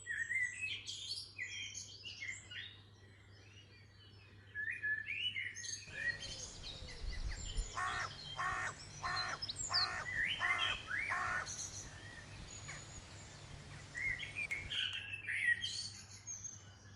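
Seagulls chirp and call repeatedly in the background near a river, with a steady low hum and a brief patch of louder rustling noise in the middle.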